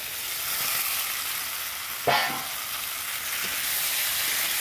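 Fried potatoes and fried egg go into hot oil in a home kitchen pan for an egg-and-potato curry, giving a steady close sizzle with a brief louder crackle and stir partway through.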